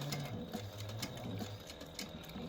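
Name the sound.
sewing machine stitching accordion card pockets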